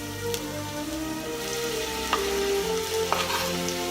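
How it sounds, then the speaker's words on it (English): Onion and garlic hit hot oil in a pan, giving a loud, even, close-up sizzle with a couple of sharper crackles and no voices. "simply we're just gonna put this straight in, the onion and the garlic straight into the pan"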